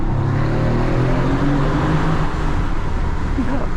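Loud, steady engine and road roar from a 2016 Mercedes-AMG GT at speed during a sound check, a continuous low drone with a slight rise in pitch and no talk.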